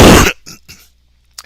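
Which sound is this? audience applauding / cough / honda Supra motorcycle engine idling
cough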